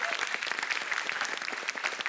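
An audience at a school team speed-stacking cup final applauds warmly, with dense clapping throughout this short burst and a faint voice underneath.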